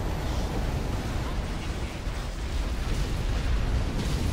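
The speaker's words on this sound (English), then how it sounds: "Missile barrage." Missile barrage explosions from the video game Halo Wars form a loud, dense, continuous roar of overlapping blasts and rumble that stays at full intensity throughout, with no talk over it.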